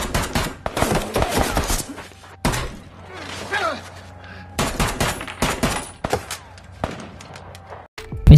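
Rapid bursts of gunfire crack through a film shootout scene, loud repeated volleys separated by short pauses, with a few thuds and impacts between them and some talk mixed in.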